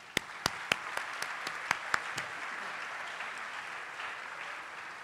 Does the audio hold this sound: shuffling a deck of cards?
no